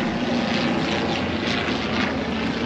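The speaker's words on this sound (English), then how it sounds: "Look at that plane." A propeller airplane drones steadily overhead, a broad continuous engine hum holding at an even loudness throughout, with no speech.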